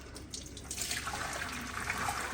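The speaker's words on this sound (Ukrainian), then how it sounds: "Включаю холодну воду, зливаю" Cold water runs steadily from a tap into a sink, a soft continuous splashing that grows a little fuller after the first second.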